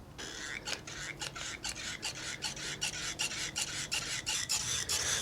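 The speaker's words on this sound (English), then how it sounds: "let me grab the grease gun and we'll get these filled up" A grease gun fills the mower deck spindles on a Troy-Bilt Pony riding mower with steady, rhythmic rasping strokes, about a dozen in a row, close and with no talk.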